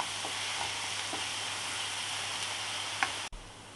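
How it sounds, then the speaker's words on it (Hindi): Onions with green chili and ginger-garlic paste frying in a kadhai for mushroom sabji, giving a steady close sizzle with a few soft stirring clicks and a brief knock near the end. "प्याज अच्छे से ब्राउन नहीं हो जाती जब तक, बिल्कुल पक नहीं जाती तब तक इन्हें हमें फ्राई करना है"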